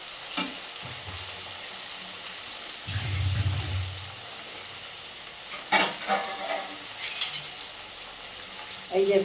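Rice for fried rice sizzles in a hot pan with a low, steady hiss. It is broken by several brief bursts of scraping and stirring, the loudest near the end, and the whole is fairly faint and close.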